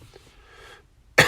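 A man with a chest cold gives one sudden, loud, close cough at the end, after a quiet lead-in.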